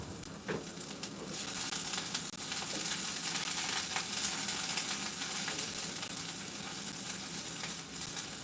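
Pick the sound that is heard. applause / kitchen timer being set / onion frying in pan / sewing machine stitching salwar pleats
onion frying in pan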